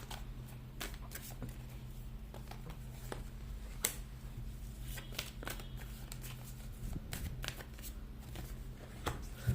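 Tarot-style cards are shuffled and drawn for a reading: crisp, close riffles and snapping card flicks come in uneven bursts over a steady low room hum, with no talk.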